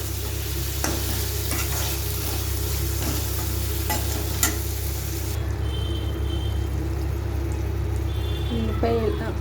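Tomato and masala paste fry in a pan for fish curry, giving a steady close sizzle and scraping stirring over a low constant rumble, with a voice speaking lightly at times.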